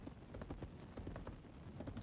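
Horse hooves clip-clopping in the video game World of Warcraft, a quick, steady run of soft, muffled hoofbeats kept low in the mix.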